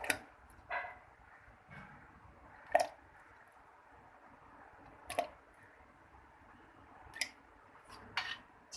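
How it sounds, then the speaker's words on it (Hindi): Pieces of chikoo fruit drop one by one into milk, making a few soft, wet plops and squishes spaced a couple of seconds apart. They are close and quiet, with no talking. "इसके बाद हम इसके अंदर डालेंगे चीकू"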